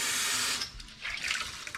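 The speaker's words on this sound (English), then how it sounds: "you take your sponge, you get it wet with some warm water" Warm tap water runs steadily onto a sponge at a sink, a close hissing stream that then eases into softer splashing and dribbling for under two seconds, with no voices.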